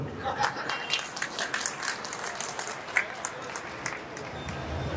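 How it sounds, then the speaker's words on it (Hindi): An audience at a BJP political meeting in Hapur claps steadily, a dense patter of applause with loud individual claps standing out and some murmuring from the crowd mixed in. "कुछ कम पड़ रही हो ताली तो मैं भी कुछ सहयोग करूं।"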